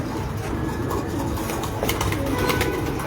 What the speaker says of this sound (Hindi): ये लाल परी वाले कबूतर हैं।